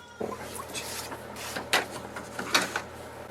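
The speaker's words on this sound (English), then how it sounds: "The paper tray is at the rear, so you just have to slide it up." An HP DeskJet Ink Advantage 2676 printer's rear paper tray is slid up by hand, giving a few close, light plastic scrapes and clicks over a quiet room hum, with brief separate bursts spaced through the moment.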